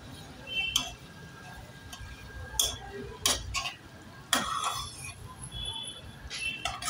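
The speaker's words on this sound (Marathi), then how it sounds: "आता हे परतवून घेऊया" Ivy gourd with grated coconut is stirred in a pan with a metal spoon, giving scattered clinks and scrapes at an irregular pace, close and fairly soft.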